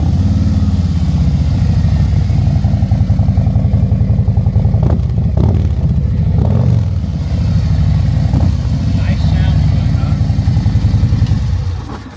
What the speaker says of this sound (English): first time we've run a Chromeworks slip-on, so let's listen to it.